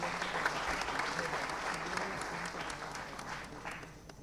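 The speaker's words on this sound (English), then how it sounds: "Round of applause for all of them." Audience applause for quiz teams at a national financial literacy quiz, a steady wash of many hands clapping that fades slightly toward the end, with faint voices beneath.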